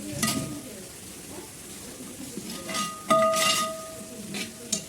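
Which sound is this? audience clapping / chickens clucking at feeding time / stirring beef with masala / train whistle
stirring beef with masala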